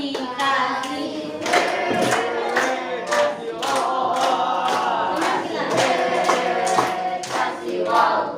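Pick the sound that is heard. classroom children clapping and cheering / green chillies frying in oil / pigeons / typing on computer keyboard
classroom children clapping and cheering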